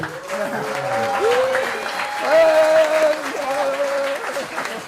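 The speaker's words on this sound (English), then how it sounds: "One more round of applause for Joy." Applause from the audience at a book signing event, a steady round of clapping for several seconds with a voice speaking over it.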